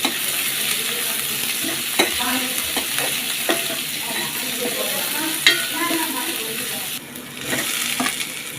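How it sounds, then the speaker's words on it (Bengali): Chopped onions sizzle and fry in a pan for an egg bhuna, with a steady hiss under scattered scraping stirs of a utensil and a brief quieter dip near the end. "একটু বেশি করে পেঁয়াজ কুচি দিয়ে দিলেন। এটা একটু লাল লাল করে ভেজে নিতে হবে।"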